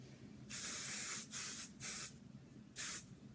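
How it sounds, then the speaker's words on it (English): Hairspray hissing from an aerosol can, applied to set makeup on a face: four short, close bursts of bright spray, each lasting under a second, with quiet pauses between them. "I would set my face using hairspray"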